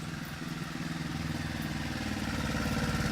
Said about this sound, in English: Here comes some traffic.